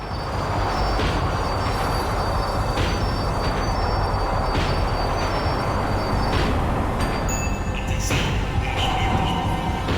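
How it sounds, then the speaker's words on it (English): A tram in the video game Max Payne 3 rumbles along with a steady, heavy mechanical roar, metallic clanks and squeals rising near the end as it slows. "The tram was slowing down, and I'd only just gotten on board."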